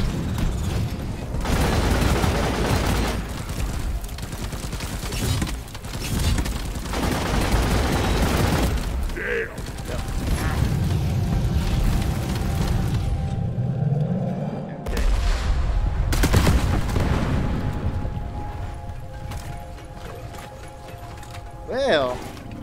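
Automatic Subata pistol fire in Deep Rock Galactic on Hazard 5, solo: dense bursts of rapid gunshots and explosions repeat throughout, loud and busy, mixed with game effects and occasional voice.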